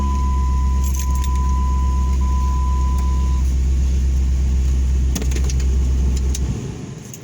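A 2002 Jeep Grand Cherokee engine running in cold snowy weather, a loud steady low rumble that holds for several seconds before easing off, with some metallic jangling early on and no talk.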